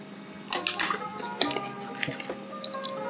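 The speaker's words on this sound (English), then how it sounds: "Now let me get some fucking water." Someone drinking generic store-brand bottled water at close range: soft plastic bottle squishes, sloshing liquid and small gulping clicks in quiet, scattered bursts.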